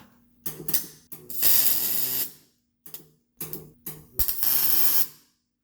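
A welder joins a replacement flex pipe into a Ford Explorer exhaust. It crackles and buzzes in several close bursts of varying length over a low electrical hum, separated by short silences.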